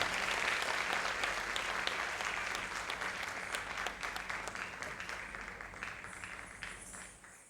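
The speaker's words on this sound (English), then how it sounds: "Please give a warm round of applause, ladies and gentlemen." Audience applause at a Bharatanatyam dance school's annual day celebration, dense steady clapping from a large crowd that gradually thins and fades toward the end.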